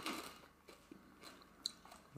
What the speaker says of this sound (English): let me finish chewing on my lozenge